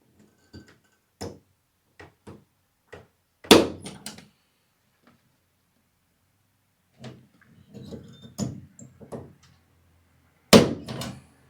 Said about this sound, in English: I'm just going to put my center punch right in the center of the crosshairs for the middle.